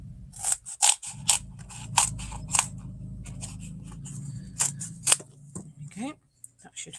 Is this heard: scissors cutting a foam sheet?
yes